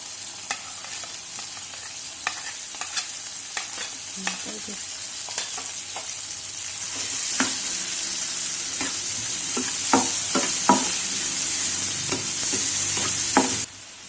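Shredded cabbage is stirred into vegetable macaroni frying in a pan with chillies: repeated scraping strokes of a spoon over a constant sizzle that grows louder and denser toward the end.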